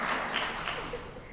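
A crowd at a groundbreaking ceremony for a media arts center breaks into dense, steady applause, many hands clapping together in a continuous wash that fades slightly toward the end.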